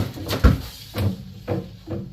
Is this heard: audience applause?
no